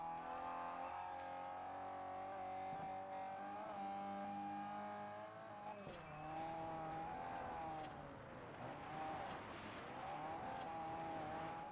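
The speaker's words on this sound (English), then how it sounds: "This is one sick D-class car." A D-class car racing in Forza Horizon, its engine droning and revving steadily through gear shifts, pitch sweeping up and down with a burst of tire noise, loud and close throughout, no voices.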